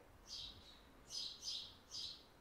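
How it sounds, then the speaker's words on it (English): Birds chirping in a tree just outside a home, with three or four short, bright bursts of song spaced over a couple of seconds, faint and somewhat distant against quiet background noise. "There's a lot of birds that live in the tree right outside our home."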